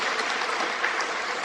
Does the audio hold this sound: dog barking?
no